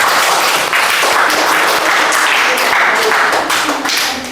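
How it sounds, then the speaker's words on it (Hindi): A group of children clap loudly together for a Hindi dictation class, producing dense, continuous applause that holds steady for several seconds before easing slightly at the end. "सबसे पहले आप लोगों को एक जोरदार ताली बजाना है"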